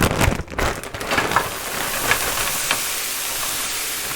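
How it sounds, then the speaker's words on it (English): Frozen cauliflower and other frozen vegetables hitting a hot pan. A sharp crackling burst at the start settles into a steady, loud sizzling hiss. "Throw my frozen veggies in the pan. This is cauliflower from Trader Joe's."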